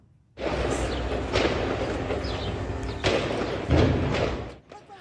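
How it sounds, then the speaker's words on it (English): Heavy, sustained rumbling booms of explosions in Rafah roll continuously for several seconds, with a louder burst near the end before fading. "The sound of explosions rolled through Rafah"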